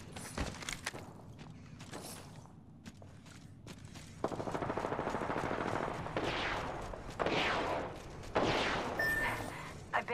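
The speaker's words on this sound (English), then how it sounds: "Getting shot at." Bursts of automatic gunfire in Apex Legends, rapid rattling volleys in several separate stretches with short gaps, mid-distance and fairly loud, interspersed with scattered clicks and movement sounds.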